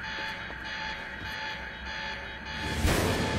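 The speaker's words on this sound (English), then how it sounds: "That alarm's not gonna make my life any easier." An alarm blares steadily in the video game Quantum Break, a loud sustained electronic tone with a burst of noise near the end.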